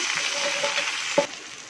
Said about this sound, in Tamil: கருவேப்பிலை காஞ்ச மிளகா இப்போது இந்த சாம்பார் சாதத்தில் தாளிப்பு கொட்டிக்கலாம்